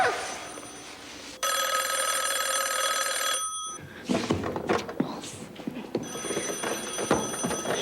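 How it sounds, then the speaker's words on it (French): A telephone bell rings loud and close in a sustained trill, stops abruptly, then starts ringing again under bumps and movement near the end. "Eric, le téléphone, viens-t'en"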